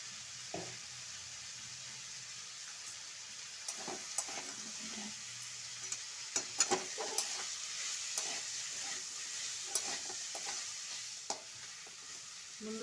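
Minced meat with chopped tomatoes and salt frying in oil in a pan, a quiet steady sizzle under intermittent scraping and stirring clatter from a utensil.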